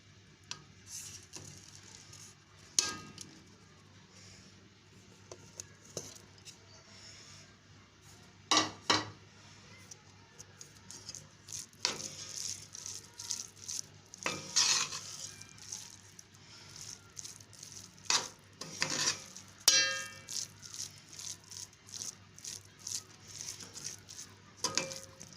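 Stirring khoya into cooled carrot halwa in a pan: a metal spoon scrapes and clinks against the pan in irregular bursts, close and fairly quiet, with faint background hum and no speech.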